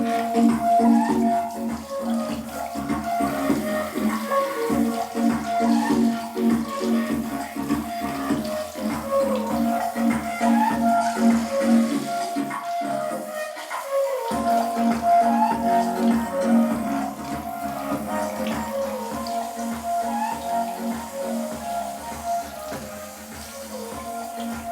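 Water sprays onto a Mivi Bluetooth speaker while music plays from it, with a steady rushing hiss running under the tonal music throughout.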